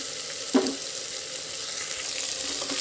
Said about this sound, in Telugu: ఇప్పుడు బీన్స్, రాజ్మా, అలాగే క్యారెట్ ముక్కలు వేస్తున్నాను